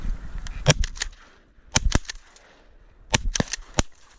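Shotgun shots during a duck hunt at Colusa National Wildlife Refuge in California, several sharp reports in uneven clusters, some in quick doubles, fairly loud and separated by quiet gaps.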